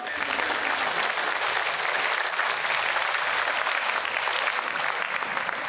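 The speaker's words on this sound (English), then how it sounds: "Let's give a round of applause." Sustained applause from a commencement audience at a university graduation ceremony, dense steady clapping filling the whole stretch at an even, moderately distant level with no talk over it.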